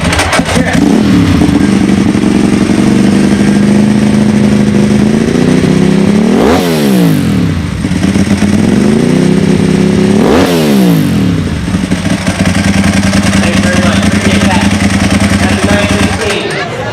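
A cold-started sport motorcycle engine idles loudly up close, then revs sharply twice, each rev rising and falling before settling back into a rumbling idle.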